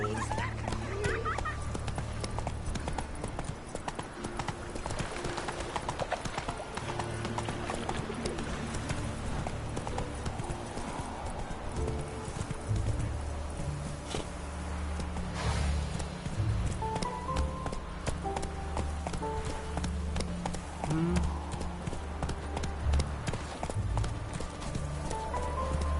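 Horse hooves clip-clop in a steady run in The Witcher 3, a continuous patter of hoofbeats under game music and ambience for the whole stretch, with occasional speech.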